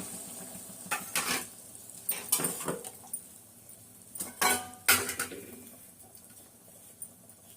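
Ground paste of coconut, fennel, cashew, onion, tomato and green chilli goes into a cooking pot in a home kitchen, with close, sharp clanks and scrapes of a spoon against metal in scattered bursts, with faint bird calls behind.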